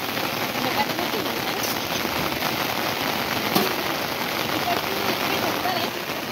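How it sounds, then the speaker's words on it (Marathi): Steady, dense patter of rain falling, a continuous hiss with scattered drops and a brief sharper tap midway. "पाऊस सुद्धा खूप लागतो."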